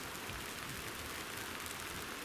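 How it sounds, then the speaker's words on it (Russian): Rain falls steadily outdoors in bad weather during a moose hunt, an even, soft hiss of drops with no distinct individual impacts, faint and continuous, with no one speaking. "Ну и как обещал прогноз, у нас пошел дождь."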